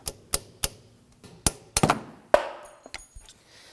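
A metal pick taps at the horseshoe clip on a CV axle of a 2008–2011 Ford Focus, making a series of sharp, close metallic clicks and ticks at an uneven pace, with a brief scrape near the end.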